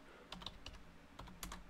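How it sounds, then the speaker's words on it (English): Typing on a computer keyboard comes as short bursts of soft, close key clicks with brief pauses between them, quiet and with no voices. "you'll see as I start typing"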